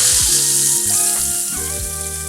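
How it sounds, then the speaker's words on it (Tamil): Mustard seeds and asafoetida tempered in hot oil for a South Indian greens dish give a loud, steady sizzle with popping crackles, close up and without talk, over faint background music. "கடைசியாக ஒரு தாளிப்பு தாங்க. எண்ணெய் ஊற்றிட்டு கடுகு சேர்த்துட்டு அது கூட பெருங்காயத்தூள் சேர்த்துட்டு கொட்டினீங்கன்னா"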